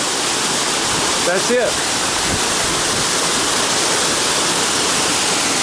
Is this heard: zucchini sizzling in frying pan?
no